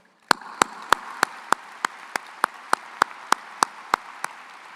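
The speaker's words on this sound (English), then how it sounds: "join me in an applause for those who have supported you" Clapping at a Michigan Engineering spring graduation ceremony in 2023: a single steady run of sharp, evenly spaced claps, about three per second, close and distinct over a quiet hiss, with no crowd roar behind it.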